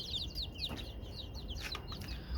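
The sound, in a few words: native chickens clucking in cage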